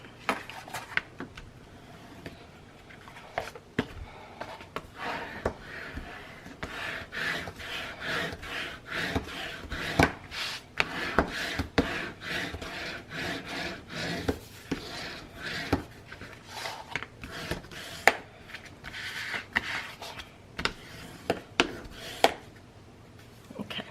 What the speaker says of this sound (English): now I'm going to burnish this tape